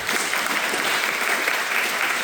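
A seated audience at a Q&A panel event applauds the panelists with dense, steady clapping that stays loud and even throughout.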